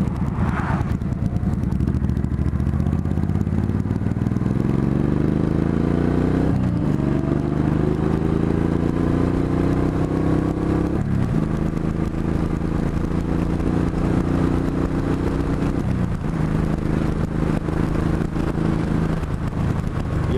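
A Yamaha R1 sport motorcycle engine runs loud and close while riding, climbing steadily through the gears with brief dips at each shift over constant wind rush, without talk.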